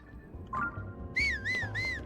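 Whistling in Zelda: Tears of the Kingdom: a short rising note, then three bright, close, wavering whistled phrases in quick succession over a low background hum, with no speech.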